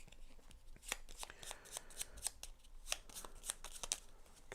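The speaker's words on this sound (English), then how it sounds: "there's the AI deck shuffle" A deck of AI cards being shuffled during a solo tabletop session of the board game Paladins of the West Kingdom, giving a close, crisp run of riffling and snapping card flutters.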